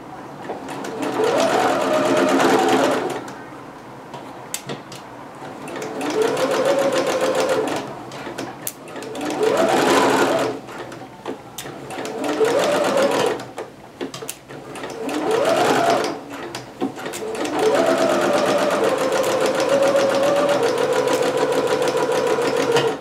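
A sewing machine stitches dress fabric for a McCall's M6701 pattern: loud, close, continuous motor whir with rapid needle chatter in several long runs, rising and easing between short pauses.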